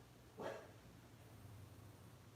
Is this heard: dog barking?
yes